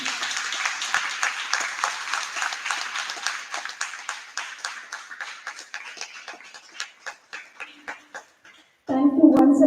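An audience at an all-India school debate competition applauding, a dense burst of clapping from many hands that thins into scattered, fading claps before a loud sound cuts in at the end.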